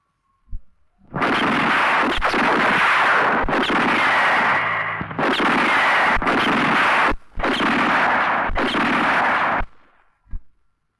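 Target shooting with a gun in a 1975 Turkish film, a loud stretch of sustained blasts in several long bursts separated by short gaps, with brief sharp pops at the start and end.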